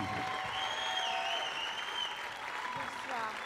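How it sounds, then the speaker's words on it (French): Audience applauding a musician at a French music show, a steady broadband wash of clapping that holds for the whole stretch, with cheering voices and music tones riding over it. "Vous pouvez l'applaudir encore, s'il vous plaît."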